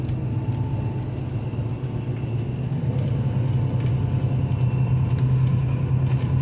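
An airport bus rolls around Heathrow Airport with a steady low engine rumble and road noise, heard from inside at moderate level, growing slightly louder toward the end.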